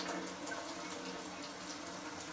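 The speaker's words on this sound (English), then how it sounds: "That way you're helping the water flow into the hookah stem." Warm tap water runs from a faucet spout into a hookah stem, a steady close splashing gush with no talk over it.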